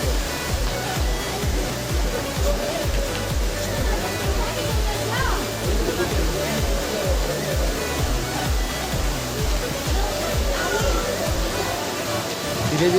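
Water flows steadily at Sundhaji, a broad continuous rush like a stream or small fall, loud and close. A low rhythmic pulsing runs underneath, and a voice talks in the background.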